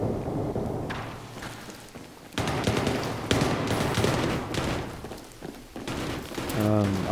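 Rapid automatic gunfire in the Battlefield 3 beta on Xbox 360, dense fusillade bursts with heavy thumps running nearly continuously and loud, with a brief lull partway through.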